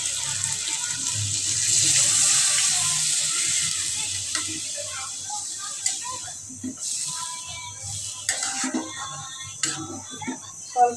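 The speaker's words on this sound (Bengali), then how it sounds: "জল দিয়ে দিই।" Water runs steadily over fish being washed, loudest early on, then thins into scattered splashes and clinks while people talk nearby.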